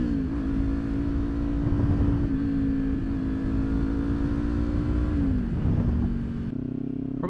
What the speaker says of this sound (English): Probably one of my favorite things about this bike is that freaking exhaust I've got on there. The downshift.